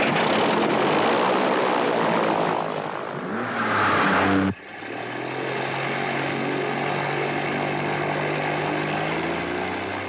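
A propeller airplane drones steadily overhead, loud and continuous, with a sudden shift in tone partway through as the engine sound changes.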